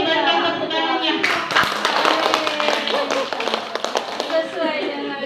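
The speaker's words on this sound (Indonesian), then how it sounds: "berikan tepuk tangannya" Clapping hands from a classroom or training audience, a dense burst of many claps that swells and continues with a voice and talk mixed in.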